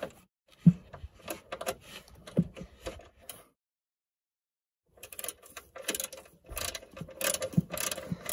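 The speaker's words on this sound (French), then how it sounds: "Et après, je visse à la clé à cliquer." Close ratchet wrench clicking as bolts are tightened on a power frunk fitted to a Tesla Model Y, brisk bursts of mechanical clicks broken by a short silent pause, with no talking.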